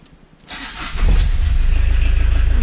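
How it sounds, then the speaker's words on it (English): A Phase 1 Peugeot 205 diesel engine cranks briefly, then catches and settles into a loud, steady idle with a low rhythmic rumble. "And the car starts right up."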